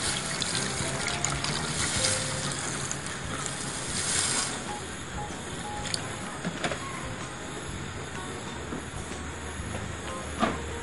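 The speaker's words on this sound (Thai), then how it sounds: "เติมน้ำลงไปนะคะ" Water pours steadily into a pot of Isan-style spicy pork lung curry, a continuous close trickling rush that runs the whole time with no one speaking.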